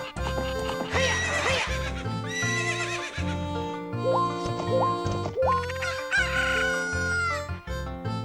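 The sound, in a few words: horse neighing in video game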